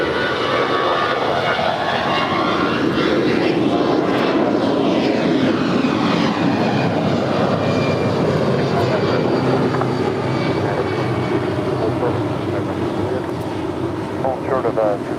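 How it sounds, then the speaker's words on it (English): Airbus A320 jet of Alaska Airlines departing LAX on a steady, loud engine roar that rumbles continuously throughout, with a faint voice in the background. "Next departure is Alaska Airlines Flight 208 heading to Cabo in an A320."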